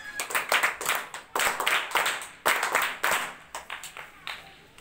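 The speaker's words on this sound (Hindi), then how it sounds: "इनके लिए एक बार जोरदार तालियां।" An audience at a National Service Scheme foundation day ceremony at a college in Sehore claps hard in bursts, with loud rhythmic waves of hand claps that rise and fall several times.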